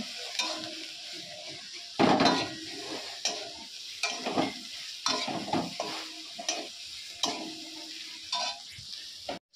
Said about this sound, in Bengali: তো এখন সয়াবিনটা ভাজছি।